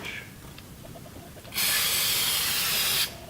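Brake cleaner sprayed onto a timing belt part, a loud steady aerosol hiss lasting about a second and a half after some quiet handling noises.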